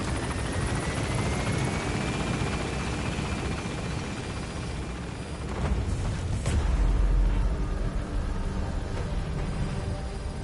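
In the game Metal Gear Solid V, a helicopter takes off with a loud, continuous rotor roar and a rising whine, and a deep rumbling boom swells about halfway through.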